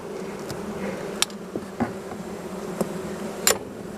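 A honeybee colony drones steadily at an open hive during a summer inspection, a low continuous hum with a few sharper buzzes of individual bees passing close.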